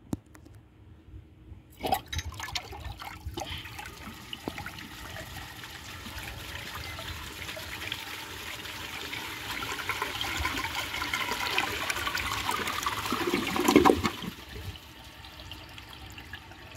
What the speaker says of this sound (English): So let's give it a flush and see how it does on tests.